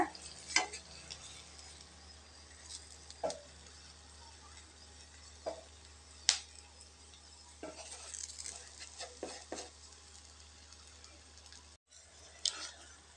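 Eggs frying in oil in a pan for Tamil-style egg masala, a soft steady sizzle with scattered stirring and spatula clinks, several sharper taps against the pan, no talking.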